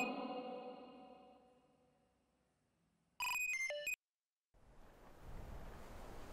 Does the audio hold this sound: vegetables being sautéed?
no